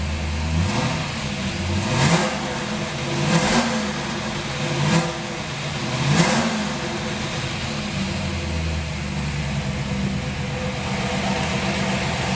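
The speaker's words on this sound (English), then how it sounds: "Nothing sounds like a DZ302. Quick revving. Solid lifters." A 1969 Chevrolet Camaro Z/28 with a DZ 302 V8 and solid lifters, choke on, revving sharply in four quick bursts over a lumpy idle, then settling into a steady idle, loud and close with no talking.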